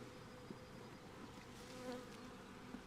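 Soft, steady buzzing of honey bees hovering close by during removal from a chimney, a faint continuous drone with a few brief louder passes, no voices.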